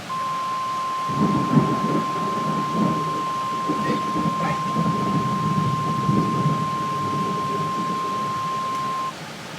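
Thunder in a severe thunderstorm with strong winds and cloud-to-ground lightning, low rumbling rolls building and fading over several seconds beneath a steady high electronic tone from a weather-alert broadcast.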